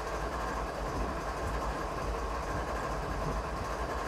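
A CSX locomotive running in the Train Sim 2015 video game, a steady dense rumble of engine and rolling rail noise, continuous and fairly loud with no voices.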